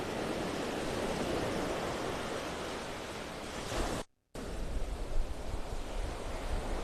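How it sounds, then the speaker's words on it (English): Steady roar of morning surf breaking on Vanderbilt Beach in North Naples, Florida, broad and continuous, with a brief dropout partway through before the wash resumes. "Got some waves breaking here this morning."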